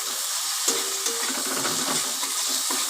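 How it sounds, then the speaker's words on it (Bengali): Chicken pieces fry with spices in a pan, giving a continuous close sizzle and hiss broken by a few light stirring knocks, with no speech. "এই যে এবার আমি মাংসটা দিয়ে ভালো করে কষিয়ে নিচ্ছি মশলার সাথে।"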